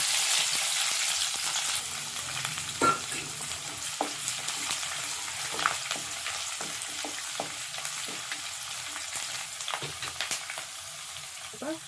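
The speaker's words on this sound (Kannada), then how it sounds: "ಎಣ್ಣೆ ಚೆನ್ನಾಗಿ ಕಾಯಿದೆ. ತಿನ್ಬೇಳೆ ಹಾಕೋತಾ ಇದ್ದೀನಿ. ಜಜ್ಜಿರೋ ಬೆಳ್ಳುಳ್ಳಿ," Crushed garlic and lentils hiss and crackle in hot oil with mustard seeds, a steady close sizzle broken by scattered sharp pops and spatters throughout.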